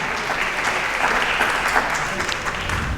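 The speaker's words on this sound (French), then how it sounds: "Une bonne main d'applaudissement pour Daniel Lapointe." Audience applause at a local political event in Quebec, a dense, steady clapping from a room full of people that holds evenly for the whole stretch, close and fairly loud.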